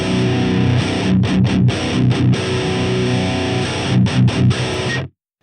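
Electric guitar played through an AX8 running a Fortin 33 grind patch, heavily distorted and driven, with a steady strummed riff, a few sharp stops and chugs, ending abruptly.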